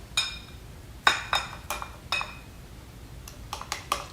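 A knife cutting meatballs on a plate, heard as a series of sharp metallic clinks and scrapes of cutlery against dishware, irregular and close, with no talking.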